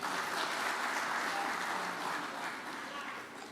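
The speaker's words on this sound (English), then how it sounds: "So we need to clap for him again." Audience applause for a leader at an award ceremony, a steady wash of many hands clapping at moderate distance that fades slightly toward the end, with a few voices faintly mixed in.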